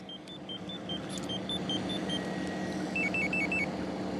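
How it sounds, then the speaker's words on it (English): A truck's car alarm chirps at a distance in a series of evenly spaced high beeps that change to a quicker warbling pattern near the end, heard over steady outdoor crowd noise at an independence rally in Sylvan Lake, Alberta. "The alarm just went off on my truck there."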